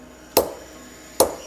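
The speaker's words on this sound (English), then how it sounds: "The hammer is crucial to aligning the blades correctly." Hammer tapping the blades of a pair of scissors to align them, two sharp metallic taps about a second apart, each ringing briefly in a quiet room.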